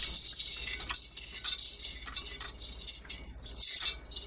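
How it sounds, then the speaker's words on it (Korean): Continuous wet swishing and rustling as red beans are stirred through water with a sieve, steady and close, with a few faint clinks and no talking. "마지막 씻어낼 땐 물을 듬뿍 받고 채로 저어가면서 가라앉아 있는 돌을 걸러내요."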